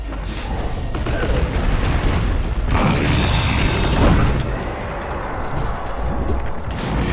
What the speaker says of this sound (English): A Legion have destroyed a Hellborn Belfry.